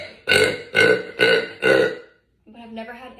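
A young woman burps loudly four times in quick succession, each a short throaty belch, followed by brief speech.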